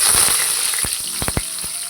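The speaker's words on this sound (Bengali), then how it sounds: "একটু কারি পাতা ফোড়ন দেবো।" Curry leaves hit hot oil in a wok, giving a bright continuous sizzle with several sharp crackling pops toward the end, close and loud, with no talking.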